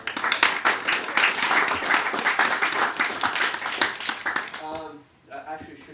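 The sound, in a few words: audience applause for Billy and Samantha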